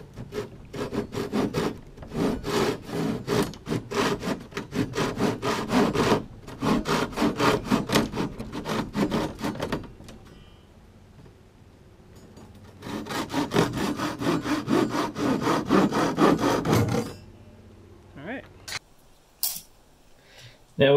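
A saw cuts through the overlapping wooden hull panels of a small stitched boat. Rapid rhythmic back-and-forth rasping strokes come in two long close bursts separated by a short pause, then fade to a few small knocks.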